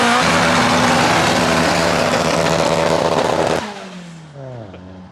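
Holden VY SS ute V8 held hard on the rev limiter during a burnout, a loud sustained buzzing roar that suddenly drops away near the end, leaving a falling engine note.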